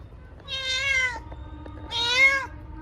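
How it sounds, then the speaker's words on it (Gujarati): A cat meows twice in a row, each call loud, close and drawn out, with a short quiet gap between them and no talking. "બહુ અજીબ રીતે મ્યાઉ મ્યાઉ ચાલુ કરી દે છે"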